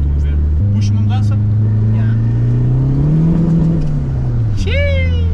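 Peugeot 206 HDI tuned to 300 hp, fitted with a final silencer, with the engine droning loudly as it pulls through a gear in rainy weather, while people talk over it.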